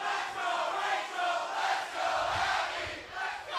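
Wrestling crowd at Full Sail cheering for the women competitors in a Mae Young Classic match, a dense roar of voices swelling in waves and chanting, no commentary over it.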